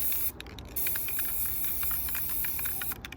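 Hissing spray bursts from a spray bottle applying a Dawn power wash to a painted piece during a waterslide decal project, a short spray near the start and another at the end over steady background noise.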